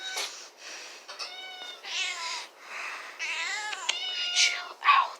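Several cats meow insistently while tuna is being prepared for them, overlapping calls rising and falling with no break through the whole stretch, close by and fairly loud, with a person talking over them now and then.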